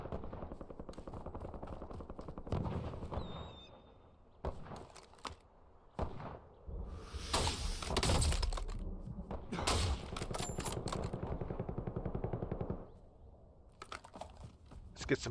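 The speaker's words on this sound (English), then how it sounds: "I don't know who he was shooting at." Rapid automatic gunfire bursts from a Warzone video game firefight, loud and close with repeated volleys, broken by shorter single shots and brief pauses, with clattering keyboard-like clicks underneath.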